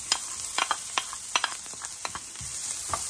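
Chopped peppers sizzle steadily in an oiled frying pan, with sharp stirring clicks and scrapes breaking through the constant hiss at irregular moments, close and alone.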